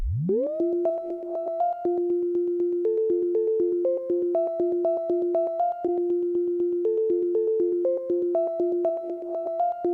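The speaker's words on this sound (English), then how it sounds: "You hear there's a moment of reverse reverb in there." A sustained electric guitar tone through a Kinotone Ribbons reverse reverb pedal swells in from nothing with a reversed, rising attack, then continues as dense, washing reverb-laden notes throughout.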